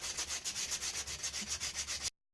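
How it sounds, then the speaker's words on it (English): A wooden knife handle being hand sanded with 220 grit sandpaper: rhythmic back-and-forth rasping strokes, about a dozen evenly paced rubs, close and clear before stopping abruptly. "Finishing the sanding off with 220 grit"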